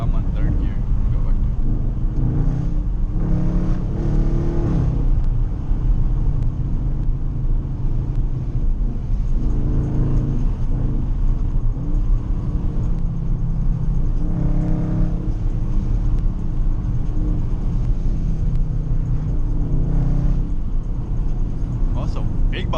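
A loud Dodge Charger drives along backroads, its engine a constant heavy rumble and drone with rising and falling revs, heard from inside the car, with someone talking over the noise.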